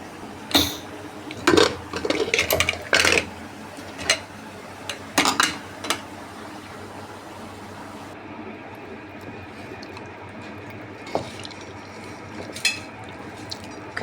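A spoon mixes cooked vegetables into khichdi rice inside a pressure cooker, giving several loud, close metallic clatters and scrapes in short bursts, then quieter occasional knocks.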